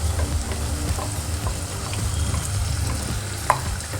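Hyacinth beans and freshly ground masala fry in a pan with an even, continuous sizzle, a low background hum underneath and one brief clink of a utensil near the end.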